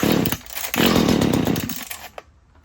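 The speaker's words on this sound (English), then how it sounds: "I'm gonna give it a little bit of throttle." A small gas engine on a Mantis rototiller runs after a carburetor cleaning, a loud close buzzing roar that revs, dips, rises again, then cuts to quiet near the end.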